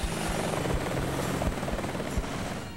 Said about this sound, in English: The most notable addition to the game is the assortment of helicopters.